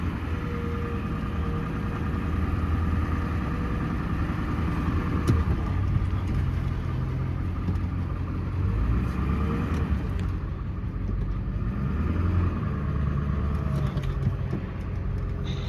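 A 2001 Ford F250 Super Duty truck with a 7.3 Powerstroke diesel rumbles steadily at low speed while backing up, a continuous loud engine drone throughout with no talk.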